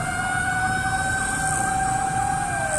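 A fire truck siren wails steadily near a fire in Las Piñas City, its two sustained tones holding loud and close for nearly three seconds over a rumbling street and engine background, then dipping slightly as it passes.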